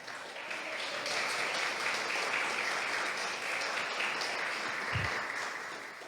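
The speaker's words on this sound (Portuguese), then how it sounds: "Dê uma salva de palmas ao Senhor." A congregation at a church service claps together in a sustained, even round of applause, fairly distant and soft, with one low thump near the end.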